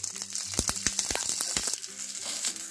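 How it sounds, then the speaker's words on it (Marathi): Green chillies roast in a little oil in a pan, giving a soft crackling sizzle with sharp intermittent pops and spatters, close and fairly quiet. "आता या ज्या मिरच्या आहेत ते आपण छान अशा भाजून घेऊ। थोडंसं आपण यावर तेल टाकून घेऊ।"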